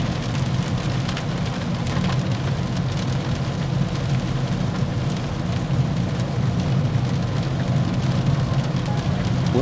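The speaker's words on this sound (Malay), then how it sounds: "Untuk bunyi hujan bagi saya okey saja" Steady heavy rain drums on the roof and sunroof of a Proton S70 car in a downpour, heard from inside the cabin as a dense, constant wash with low road rumble beneath, no voices.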